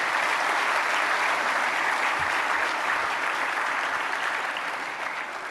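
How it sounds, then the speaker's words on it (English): Sustained applause from a large audience after a performance by the National Ballet of Côte d'Ivoire at an annual meeting, a dense, even roar of clapping that holds steady throughout and eases slightly near the end. "may we please give a round of applause to the group that just performed this wonderful"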